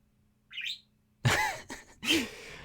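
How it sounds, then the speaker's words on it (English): A pet bird at home gives several sharp, agitated chirps and calls in quick bursts, close and fairly loud, with short pauses between outbursts and a faint earlier call. "My bird is getting angry at me now"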